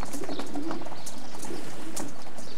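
Racing pigeons in a loft give soft, repeated cooing calls at moderate volume, with faint rustling and scattered brief noises between the coos.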